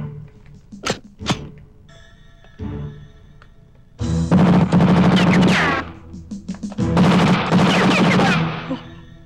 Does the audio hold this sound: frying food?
no